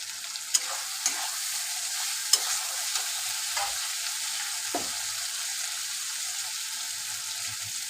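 Mutton cooking down with tomato in a hot pan, a soft continuous sizzle punctuated by a few sharp clinks and scrapes as the mixture is stirred, no talking.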